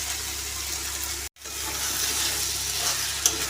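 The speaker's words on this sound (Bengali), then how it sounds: "এটাকেও কষে নিচ্ছি চিকেনটার সঙ্গে" Chicken filling with pointed gourd seeds sautés in a pan with a steady, close hiss of frying, broken by one brief pause and a single faint clink.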